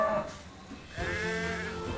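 A ram living among cattle on a farm lets out a bleat. A quieter, rougher call comes first, then one long, wavering bleat fills the second half, fairly close and with no talking.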